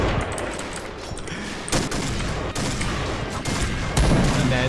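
Dense, sustained gunfire from a zombie shooter game, a continuous loud fusillade of rapid shots with a few heavier bursts, filling the whole stretch with faint voices underneath.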